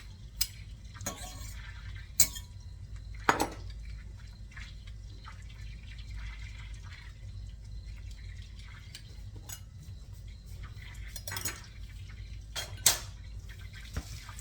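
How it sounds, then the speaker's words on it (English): The back of a knife scrapes food off a cutting surface, making a few quiet, scattered scraping strokes and light clicks against a low background hum. "Use the back of your knife and scrape that off."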